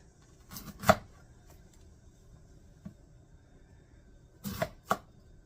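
Two limes cut in half with a knife on a board, two pairs of sharp close chops separated by quiet, with a faint tap between.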